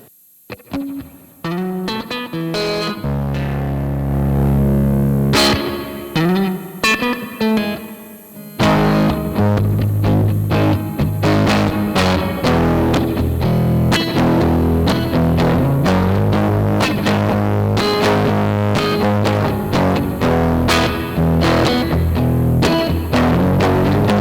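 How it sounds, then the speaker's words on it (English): Colour Box preamp set to its high mode, pushing a played instrument into thick, fuzzy distortion; sustained loud saturated tones with dense strums and a reverb tail, continuous throughout with no talking. "This is kind of more where you're going to kind of get that really fuzzy sound."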